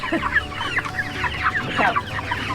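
Young turkeys calling inside a turkey coop on a homestead, a busy overlapping chorus of short chirps and clucking calls, close and steady throughout with no talking.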